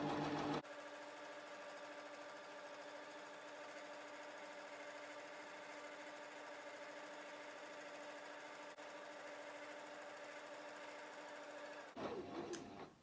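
A sewing machine stitches a straight seam through seasonal fabric for a gathered flower, a quiet, steady mechanical whir with an even rapid rhythm that stops abruptly near the end.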